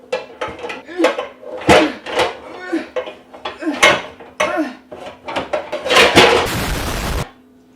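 Pots and pans clank and clatter in a home kitchen as a pan for syrup is pulled out, a loud, irregular series of close metallic knocks and scrapes ending in a brief rattle.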